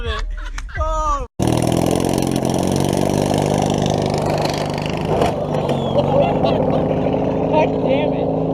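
An offroad lawnmower engine runs loud and steady with a droning, harmonic-rich roar. A brief burst of talk comes just before it starts, and the engine holds at a constant rumble.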